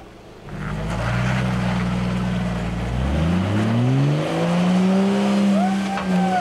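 An off-road vehicle on the Rubicon Trail revs hard during four-wheel burnouts, its engine note climbing and sweeping upward, loud and close, with voices faintly mixed in.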